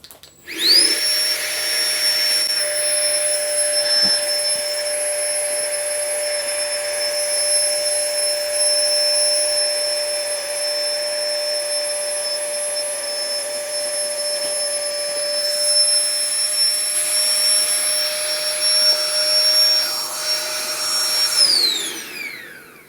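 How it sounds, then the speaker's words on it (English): A Flextail Tiny Pump 2X portable air pump inflating a mat, running as a steady high-pitched electric whine for about twenty seconds, close and loud, before winding down at the end. "first I'm going to test the Tiny Pump 2X"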